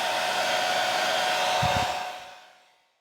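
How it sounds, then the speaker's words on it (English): A hair dryer heating poured resin on a model railway blows loud and steady, then winds down and fades to silence near the end. "I don't have a creme brulee torch, but I do have a hairdryer."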